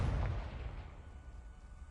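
A fiery Confringo spell blast in a Hogwarts video game lands as a deep booming explosion that hits hard at once and then rumbles away over about two seconds.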